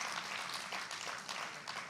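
Applause from an audience greets guests arriving on stage at a televised public forum in Kurukshetra, a steady, dense wash of clapping that holds for the whole stretch with no voices.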